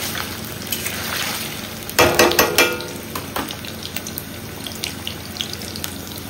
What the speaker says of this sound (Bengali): এখন এটা হবে পনির তরকারি, তাই পনিরটাকে একটু ভেজে নিচ্ছি হালকা করে।